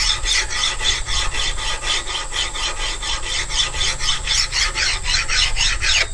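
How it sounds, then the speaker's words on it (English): A mill file rasps back and forth across an old axe blade held in a vise, a close, steady series of regular scraping strokes in both directions with no talking. "a mill file is designed to cut both directions."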